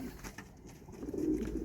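Young racing pigeons coo in a loft on a hot day, a low, throaty, rolling cooing that swells and continues close by with faint rustling behind it.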